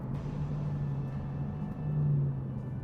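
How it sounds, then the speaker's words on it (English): Aston Martin DB11 engine in sport mode while braking at a traffic light, a low steady droning hum with a slight swell in pitch and level near the end, heard alone at moderate loudness. "I'm just hearing that engine just that little bit more."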